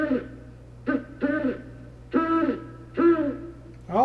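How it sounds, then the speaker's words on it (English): Spooky Halloween breathing sound effects, a series of about six raspy, drawn-out breaths in uneven bursts, each rough and throaty over a low steady hum, fairly close and loud. "Now we have a variety of breathers."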